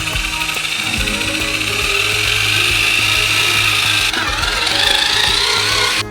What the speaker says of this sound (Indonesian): Dan sekarang semua ini perlu dicampur dengan mixer besar.